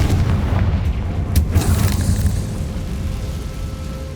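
The Confringo explosive spell in the video game Hogwarts Legacy bursts with a loud, deep boom whose rumble fills the whole moment and slowly fades.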